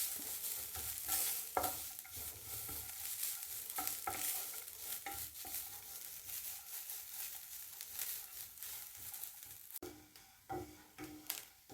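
Grated coconut frying in ghee while being stirred for sweet somas, with a steady close sizzle and repeated scraping stir strokes through the whole stretch, no talking.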